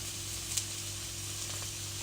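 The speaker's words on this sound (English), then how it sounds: "You can hear the flour cooking off." Flour cooking in a hot frying pan, making a continuous close sizzle with light crackling and a low steady hum beneath, no talking.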